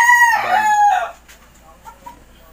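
A game-farm rooster crows once, loud and close, a rising then falling call lasting about a second, followed by quieter clucks and faint farmyard sounds.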